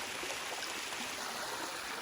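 A small creek near Wangi Falls flows in a steady, even rush of water, close and continuous with no voices.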